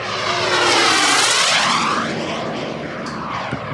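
An Elite Aerosports Picaro model airplane makes a pass at an airfield, its engine rising to a loud sweeping roar near the start, then fading and falling in pitch as it flies past and moves away, with no one talking.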